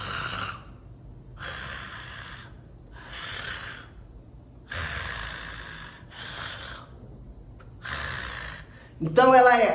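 A voice imitates Kussmaul breathing with slow, noisy inhalations and exhalations, each separated by a silent pause. About six breaths sound loud and close. A sharp, different sound closes the sequence.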